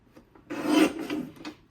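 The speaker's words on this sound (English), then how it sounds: "We'll trim at 11 1/4" A paper trimmer slices through a sheet of scrapbook paper, one short rasping cut lasting about a second, close and clear with no talk.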